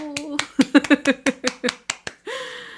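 A handful of sharp, separate hand claps in an uneven burst, close and fairly loud, mixed with voices and a spoken word trailing at the end.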